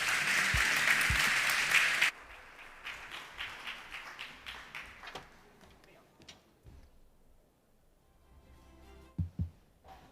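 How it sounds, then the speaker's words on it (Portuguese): Conference audience applause at a national APG meeting for a Coverflex speaker, loud close clapping for about two seconds, then fading to scattered individual claps and quiet room noise with a few late taps. "para quem eu peço desde já uma fortíssima salva de palmas"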